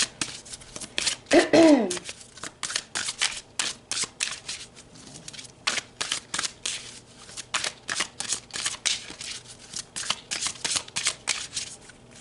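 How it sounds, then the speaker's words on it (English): Tarot cards being shuffled by hand, a continuous run of quick riffling, flicking and slapping card sounds close up, with a brief voiced sound early on. "let's pull some cards to look at the biggest and most positive changes happening for Taurus in 2025."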